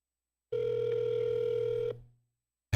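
A telephone gives one steady electronic tone lasting about a second and a half that then fades, and a short burst of sound follows just afterward, with no voices.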